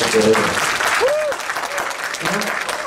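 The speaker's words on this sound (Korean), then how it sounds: "딴 데서는 이럴 때 박수 좀 쳐주시는 것 같은데." Audience applause at a motivational talk by a comedian, a full steady patter of clapping throughout with brief voices and whoops mixed in.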